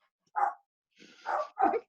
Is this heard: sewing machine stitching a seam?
no